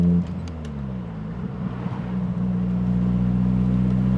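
A Morgan 4/4 sports car engine hums low and steady, its pitch shifting as it builds speed, then holds a loud, sustained drone.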